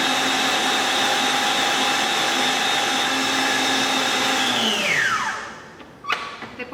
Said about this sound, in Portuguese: Depois que os nossos ovos bateram bem com açúcar